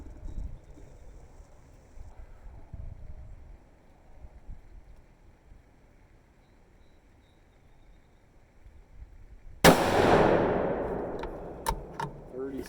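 A Savage 110 Predator rifle in .243 Win, loaded with 45 grains of Reloader 16, fires one sharp, loud shot outdoors in gusty wind, with a few faint clicks following.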